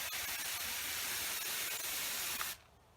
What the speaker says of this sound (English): we're just going to give it a light mist